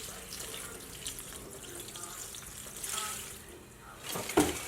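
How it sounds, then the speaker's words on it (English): Water is poured steadily into a houseplant pot indoors, a soft continuous trickle and splash that swells slightly near the end. "I just pour the water in my plant."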